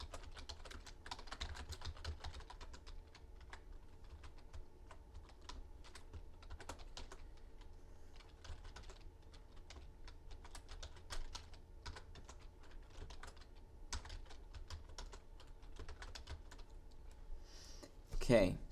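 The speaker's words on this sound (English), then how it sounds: "So I'm going to click in there, type this in." Data is typed into a spreadsheet on a computer keyboard, producing rapid irregular key clicks in quiet, close bursts with a brief louder clatter at the end, and a voice talks faintly in places.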